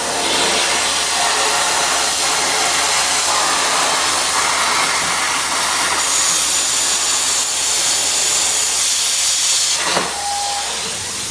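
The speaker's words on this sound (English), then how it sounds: "Might get a little noisy, but this is our 10-foot plasma table." Loud, steady roaring hiss of a 10-foot CNC plasma table cutting metal continuously, with shifting airy noise and a brief high beep near the end.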